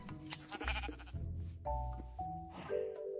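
Sheep bleat repeatedly in the Minecraft video game, a string of close, wavering calls with short gaps between them and no voices over them.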